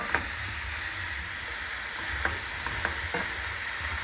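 Mushrooms seasoned with salt and pepper fry in a pan with a constant soft sizzle, and a few light clicks of stirring come through with no voices.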